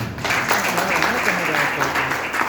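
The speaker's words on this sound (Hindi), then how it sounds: "मैं इन शख्सों के लिए जोरदार ताली चाहता हूँ" A hall audience gives loud, steady applause, a continuous crowd clapping with a faint voice underneath.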